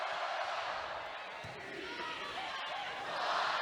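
Crowd noise swells at a BYU volleyball match, a broad roar of cheering spectators in an indoor arena, steady and rising near the end, with a commentator talking over it.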